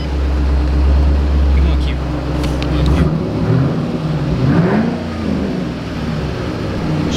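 A manual V8 Ford Mustang cranks and idles with a loud, heavy low rumble, dropping and then surging in a short rev, while voices talk over the engine.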